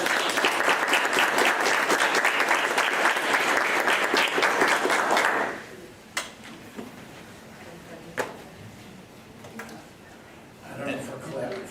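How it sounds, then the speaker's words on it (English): An audience claps loudly and continuously at a school Board of Education meeting for about five seconds, then the applause cuts off, leaving a quiet room with scattered knocks and shuffling. "I don't know if we're clapping for Brittany."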